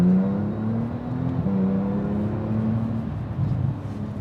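A Porsche 911 Turbo (991.1) pulling at half throttle, with a moderate engine hum rising steadily in pitch, briefly dipping, then climbing again, heard from inside the car.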